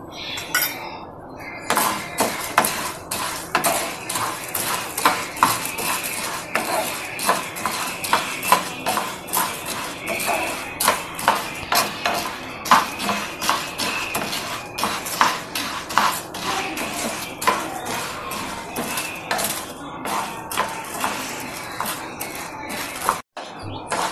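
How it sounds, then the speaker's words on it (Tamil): Chana dal roasting in a spoonful of oil in a pan for Tamil idli podi, a spatula scraping and clinking against the metal in steady, busy strokes close up throughout, with a faint sizzle beneath. "நல்லா பொன்னிறமாக வரணும். அது வரைக்கும் வறுத்துக்கோங்க."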